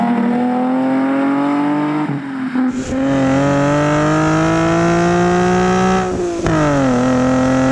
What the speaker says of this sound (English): This V6 actually doesn't sound too bad.